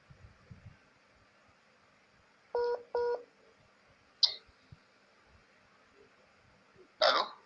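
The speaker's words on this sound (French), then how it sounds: "j'ai été interrompu par un appel" Telephone keypad tones sounding during a call, two short beeps close together, faint against a quiet room, followed by scattered clicks and a throat noise.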